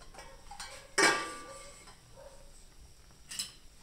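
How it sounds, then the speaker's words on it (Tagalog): A metal lid set onto a pot of simmering chicken sotanghon noodle soup, one sharp clank followed by a fainter clink a few seconds later, close and alone in a quiet kitchen. "Takpan muna ulit natin."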